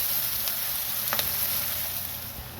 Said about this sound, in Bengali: একটু লবণ দেবো পেঁয়াজে আর একটু হলুদ দেবো, দিয়ে পেঁয়াজটাকে ভেজে নিচ্ছি।